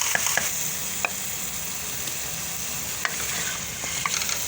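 A spoon stirs liver and spinach curry (kaleji palak) in a pan, soft scraping strokes recurring every second or so over a steady low sizzle, close and fairly quiet with no talk.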